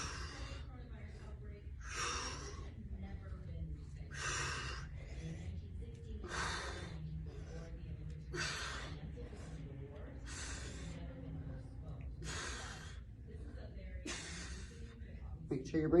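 Heavy breathing during a workout exercise: sharp, forceful exhalations repeat about every second and a half in a steady rhythm, close and prominent over a low background hum.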